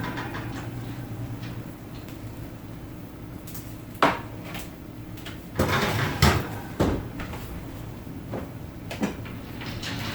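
An oven door swings open with a sharp clunk as a tray of veggie, cheese and bacon egg bites comes out, followed by several rattling knocks and thumps of pans and racks close by.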